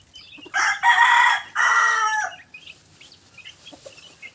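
Fighting roosters crow loudly nearby in two strong bursts, followed by softer scattered clucks and chirps from the flock.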